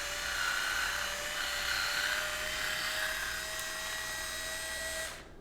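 An electric wine opener's motor whirs steadily at a high pitch for about five seconds, then cuts off abruptly as the cork is ejected.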